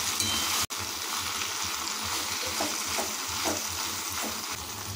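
Okra (bhindi) frying in oil in a wok while being stirred, a loud, continuous sizzle with repeated scraping stirs and a brief sharp knock near the start.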